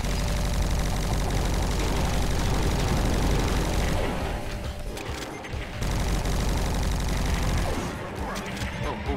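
Rapid, heavy gunfire and explosive blasts from a first-person shooter video game battle against a cyber demon, loud and continuous with short dips in intensity.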